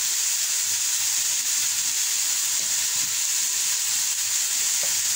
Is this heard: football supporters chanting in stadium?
no